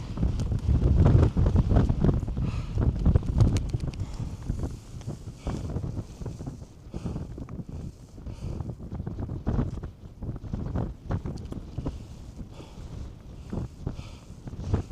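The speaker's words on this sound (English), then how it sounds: "It's a steep climb and the wind is strong." Strong wind buffeting the microphone on a steep hill climb, gusting loudly in uneven surges with low rumbling and scattered footstep-like thumps, no voices.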